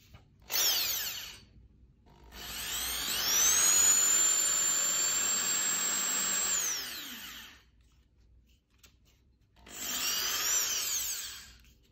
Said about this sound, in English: the first drill was just to sort of create a hole